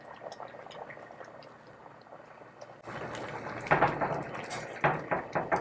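A pot of beef doenjang stew with green onion and cheongyang chili simmers, starting as a soft low bubbling, then jumping midway to a louder, busier boil with repeated bursts of popping bubbles close by. No one speaks.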